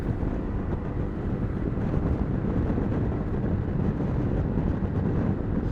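Constant roaring wind buffets the rider of a Honda Forza scooter at about 110 km/h on an expressway in a video game, a dense low rumble with no breaks.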